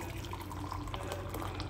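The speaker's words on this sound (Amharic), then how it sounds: "አሁን ውሃችን እናደርግ ነው።" Hot water pouring steadily into a container while making a cream caramel dessert, a brief, faint and continuous liquid trickle with no talking.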